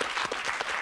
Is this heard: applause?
yes